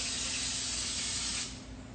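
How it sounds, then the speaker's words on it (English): Cooking spray hisses steadily into a muffin pan for carrot cake muffins, one continuous close spray that eases off near the end before a brief final burst. "Any type of cooking spray is cool."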